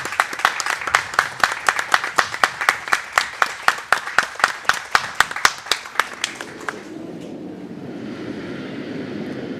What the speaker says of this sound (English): applause in the warm room for our two teams from our final